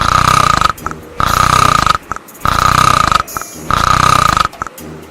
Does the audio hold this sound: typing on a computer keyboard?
no